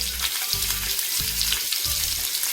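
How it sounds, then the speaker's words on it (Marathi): Chopped onion sizzling in hot oil in a pan while preparing mixed pasta, a loud continuous fry hiss with repeated low thuds from stirring or pan movement, close up and free of talk. "आपण आपल्या तेलामध्ये गरम झाल्यानंतर आपला कट केलेला कांदा टाकणार आहोत आणि कांदा छान प्रकारे तेलात फ्राय करून घेणार आहोत"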